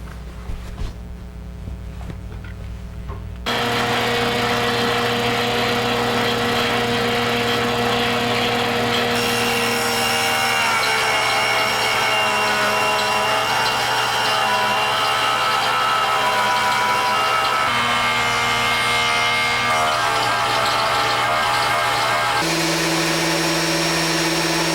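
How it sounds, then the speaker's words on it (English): Woodworking jointer and planer milling coffee table legs, a loud steady motor whine with shifting pitch as boards feed through, running continuously after a short quieter lead-in. "using the joiner to clean off the edges, and also then running the legs through the planer to get them down to the exact size we want"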